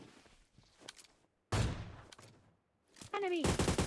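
AWM sniper rifle fired in PUBG Mobile Lite, a few sharp booming game gunshots with a loud crack and fading tail, separated by quieter gaps with faint game sounds.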